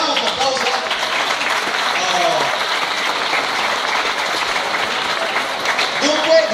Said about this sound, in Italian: E facciamo un applauso.